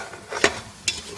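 Rice and peas being stirred into masala in a pot give two quick scraping strokes over a faint sizzle.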